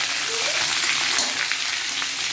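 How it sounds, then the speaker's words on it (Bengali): Pieces of pointed gourd (potol) fry in a pan with a steady, even sizzling hiss that carries on without a break and has no talking over it. "পটলগুলো এবার লাল লাল করে হালকা আগে ভেজে নিতে হবে।"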